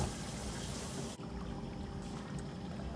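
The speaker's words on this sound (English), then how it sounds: "Turn the water on and pour that nasty water." Tap water running into a kitchen sink and draining through leaky pipes underneath, a steady gushing pour that briefly drops off, then continues as quieter trickling.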